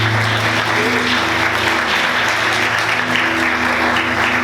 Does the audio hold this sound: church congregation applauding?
yes